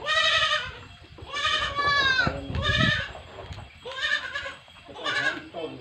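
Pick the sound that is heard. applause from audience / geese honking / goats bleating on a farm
goats bleating on a farm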